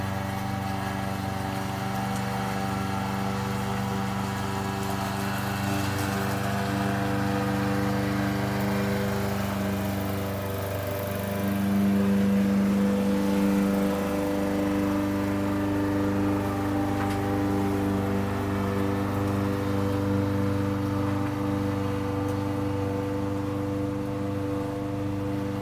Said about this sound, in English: He's actually mowing my front yard.